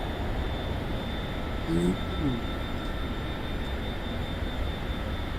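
Steady airplane engine drone from Microsoft Flight Simulator 2024, a continuous broadband hum holding level throughout with a brief faint tonal blip partway through.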